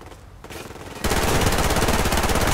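Rapid automatic gunfire from the online shooter Survarium, beginning as quieter distant shots and abruptly turning into a loud, dense, sustained burst of machine-gun fire for the rest of the clip.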